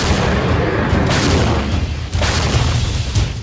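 Artillery cannon fire in the Russia-Ukraine war, dense heavy booms and rumbling blasts overlapping in a continuous loud barrage, with sharper bursts around the middle.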